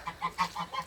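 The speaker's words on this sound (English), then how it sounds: "The geese have come in as well." Geese honking repeatedly in a farmyard shelter during high winds, about five loud, evenly spaced calls close by, with no talk.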